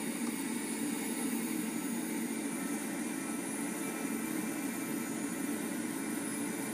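Right engine of an A-10 jet spooling up, a steady loud broadband turbine roar with a constant whine heard close from the cockpit, no talk.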